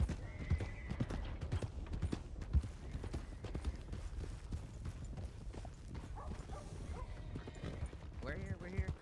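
Horse hooves clip-clop rapidly at a gallop during a chase in the Wild West role-play game WildRP. Loud, rhythmic hoofbeats fill the whole stretch, with a brief whinny and voices talking over the gameplay sounds.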